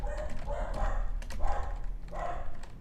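Dogs bark in three loud, rough bursts spaced about half a second apart, close by and alone with no talk.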